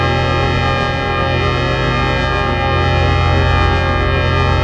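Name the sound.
industrial drone music with echo effects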